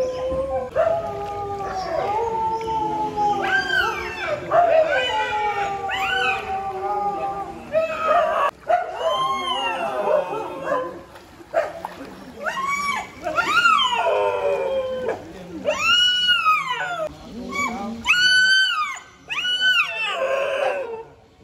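Dogs howl in long, rising and falling wails in a waterlogged housing society in Vejalpur, Ahmedabad, after heavy overnight rain. Several drawn-out cries overlap, loud and fairly near, with voices present.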